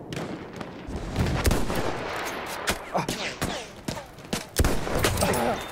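Dense gunfire in the World War I shooter Battlefield 1, with rapid overlapping shots, sharp nearby cracks and booming blasts in continuous all-out-warfare combat, loud and sustained throughout.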